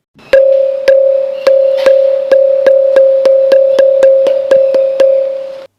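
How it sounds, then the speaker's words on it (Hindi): A rapid series of about fifteen bright metallic strikes on a musical stone pillar over a steady ringing tone, evenly paced like a school bell being struck repeatedly, close and loud. "और यहाँ एक स्कूल की घंटी की आवाज है।"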